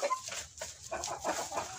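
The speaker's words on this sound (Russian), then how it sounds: "И вот в результате получилась вот такая вот пушкинская курочка." Pushkin breed hen, a cross involving broiler and Russian White stock, clucking softly in a farm coop, a few short murmuring clucks over faint barnyard background.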